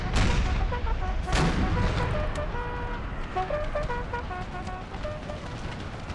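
Howitzer artillery fire in an Empire: Total War mod battle, a dense, continuous rumble of booming cannon shots layered with steady combat noise, loud throughout.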